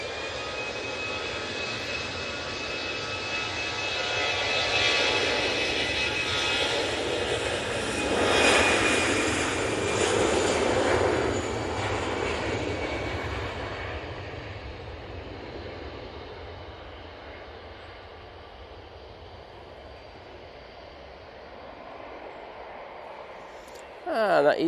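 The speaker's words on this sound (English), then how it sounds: "And that EasyJet is off to Hamburg." An EasyJet airliner taking off from Manchester Airport, a distant jet roar that swells to a peak and then slowly fades away under a quiet background.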